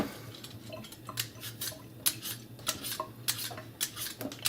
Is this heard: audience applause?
no